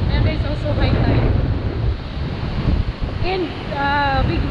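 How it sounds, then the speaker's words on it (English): Heavy wind buffets the microphone in a constant roar, with crashing high-tide surf beneath and faint tonal sounds near the end, at Station 1 front beach. "And big wind. Too windy."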